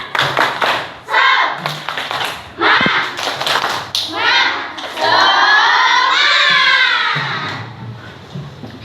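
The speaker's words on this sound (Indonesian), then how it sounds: "Tepuk semangat" A class of schoolchildren performs a spirit clap routine, loud patterned bursts of clapping in quick rhythmic groups with short pauses, ending in a long shouted group chant close by.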